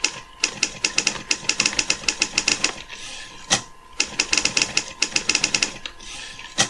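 Daktilo typing-sound app on Linux, Basic typewriter option: rapid bursts of crisp mechanical key clacks in two runs separated by a pause, close and fairly loud with no talking.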